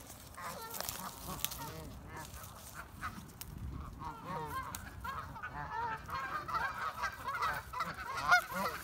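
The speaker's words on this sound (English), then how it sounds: "Feeding the goose in the park" Geese honking repeatedly at close range while being fed bread in a park, a busy overlapping chorus of calls running throughout with people talking in the background.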